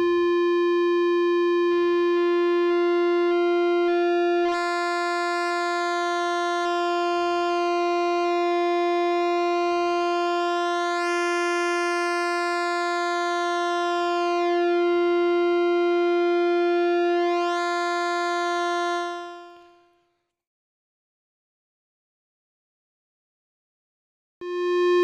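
A Yamaha Reface DX synth holds one steady square-wave note as its pulse width narrows and the tone thins and shifts. The note sustains alone for about twenty seconds, then cuts off.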